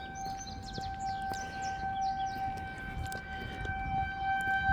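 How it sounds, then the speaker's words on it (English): A town civil defense siren sounds as a steady tone throughout, loud and continuous, with birds chirping over the top. "they ring a bell or they sound some siren of a sort"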